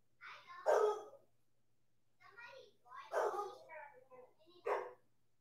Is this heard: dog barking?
yes